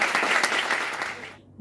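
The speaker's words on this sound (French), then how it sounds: "on peut applaudir June, Christophe." A burst of applause from a group, dense clapping at a lively level that carries on briefly and then cuts off abruptly near the end.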